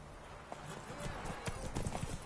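Horse galloping in a race in The Witcher 3: steady rapid hoofbeats drum over a dense game soundscape, with a voice talking faintly underneath.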